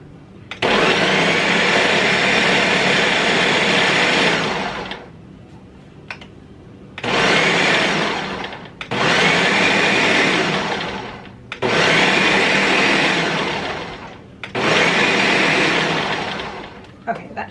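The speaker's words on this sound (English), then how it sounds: "I have 8 cups of berries in my blender, and I'm going to start pulsing it" Blender pulsing eight cups of strawberries for jam, five loud bursts of whirring motor separated by brief pauses.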